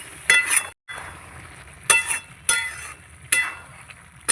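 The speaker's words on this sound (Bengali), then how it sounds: "গুঁড়ো গরম মশলা দিয়ে দিচ্ছি।" Spoon stirring egg and pea curry in a pan just after ground garam masala goes in, with soft sizzling under a few distinct scraping, clinking strokes spaced about a second apart, close and moderately loud.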